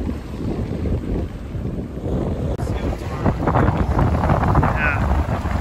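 A gust of wind buffets the microphone aboard a sailboat on Lake Michigan, broadband rushing that swells louder in the second half, mixed with water wash against the hull.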